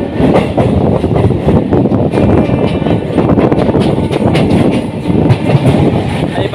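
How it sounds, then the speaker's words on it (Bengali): An express train rumbles past up close at Santragachi station near Howrah, loud and steady, with a rhythmic clatter of wheels over the rails and no voices. "যে এক্সপ্রেস ট্রেন যাচ্ছে"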